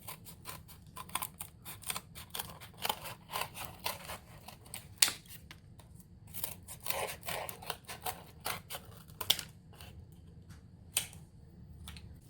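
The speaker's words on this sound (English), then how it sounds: "take some more of this cardboard, maybe some paper, and cut out some like feather shapes" Scissors snipping feather shapes out of cardboard and paper for a bird goddess craft, giving a run of close, irregular crisp clicks and cuts with short pauses between them, and no talking.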